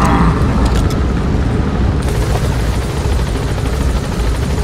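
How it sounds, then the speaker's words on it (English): A helicopter in the Metal Gear Solid 5: The Phantom Pain video game, its loud, dense rotor roar and thrumming wash filling the whole stretch continuously, with brief clicks early on and no talking over it. "I dare a helicopter."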